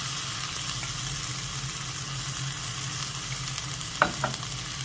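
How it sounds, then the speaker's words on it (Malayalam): Chopped fenugreek leaves frying in a pan for methi matar malai, a constant close sizzle with a couple of brief spoon scrapes near the end, no talking. "അതുകൂടെ ഒന്ന് ജസ്റ്റ് ഒന്ന് 2 മിനിറ്റ് എന്നൊക്കെ ഒന്ന് ഇളക്കി കൊടുക്കാം."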